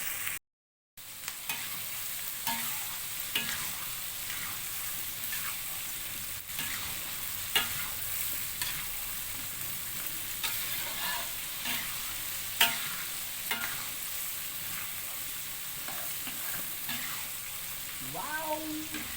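Baby squid with chili spice paste frying and being stirred in a pan for sambal, a steady loud sizzle broken by repeated scraping spatula strokes throughout.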